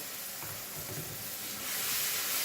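Onions and tomatoes with green chili and coriander fry in a pan for Afghani borani baingan, giving a continuous moderate sizzle with some low stirring scrapes that swells slightly louder toward the end.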